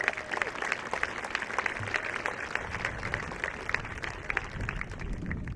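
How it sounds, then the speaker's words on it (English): An audience at a graduation ceremony applauds for the parents, a steady, moderately distant wash of many hands clapping that holds evenly for several seconds. "How about a round of applause for your parents?"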